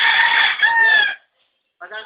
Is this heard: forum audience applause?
no